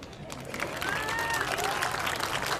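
An outdoor crowd watching a clown show at the Alameda near Bellas Artes claps and murmurs, scattered applause mixed with crowd noise and a few voices.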